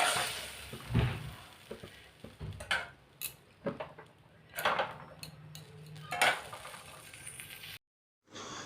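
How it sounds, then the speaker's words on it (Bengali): Okra, cauliflower and potato being chopped with a knife in a home kitchen, producing irregular close knocks and taps of the blade on a board, spaced unevenly with short pauses. "তো চলো সব কুটে কাটে নিই, রান্নাটাও চটপট করে নিই।"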